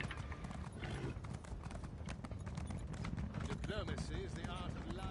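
Horse hooves clip-clop in a quick, steady rhythm under busy background noise, with a whinny-like sound rising near the end.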